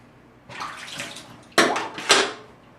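Water gurgles and rushes down a kitchen sink drain through a newly replaced basket strainer once the stopper is pulled, starting softly and then swelling into louder, close splashing bursts near the end.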